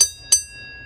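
A metal part of a Sherwood raw water pump is struck twice and rings like a ship's bell, two bright, sharp strikes about a third of a second apart, each fading quickly.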